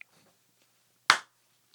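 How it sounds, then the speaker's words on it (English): One sharp hand clap made to sync recordings during a podcast, a single crisp slap in an otherwise quiet room. "I guess if we clap now, we could probably sync it up."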